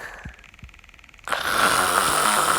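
Deep, rhythmic human snoring with two low breathy snores, then a sudden loud, sustained raspy noise.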